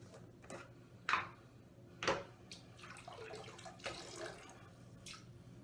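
Water from a bathroom sink tap runs and splashes faintly as hands wet a face before a shave, with intermittent louder splashes and clunks over a quiet, steady trickle.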